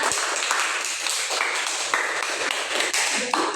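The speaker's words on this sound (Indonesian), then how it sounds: "beri tepuk tangan buat Mutiara." A classroom group gives a round of applause during a microteaching practice session, with steady, fairly close clapping from several people that lasts a few seconds without speech.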